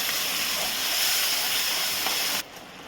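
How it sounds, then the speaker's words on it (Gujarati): A steady, loud hiss of hot water poured into a hot frying pan, sizzling continuously for a couple of seconds before dropping abruptly to a quieter simmer. "આપણે ગરમ પાણી છે, થોડું ગરમ પાણી રેડીશું."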